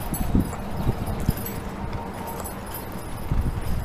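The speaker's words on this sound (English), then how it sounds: "I didn't think I'd be on this horse ride." Horse hooves clip-clopping in an uneven walking rhythm during a ride in Lake Charles, Louisiana, with faint jangling and outdoor background noise, moderately close.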